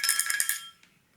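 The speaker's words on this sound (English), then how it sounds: "this bell just seems to have an opening here, so you can ring it from inside" A vintage telephone bell struck rapidly from inside by its spring-loaded rod, giving a brief bright metallic trill that decays quickly into silence.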